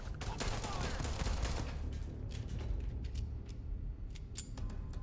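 Pistol gunfire in the Starfield video game, a dense run of sharp shots in the first half that thins to scattered isolated reports, loud over a steady low rumble of game ambience.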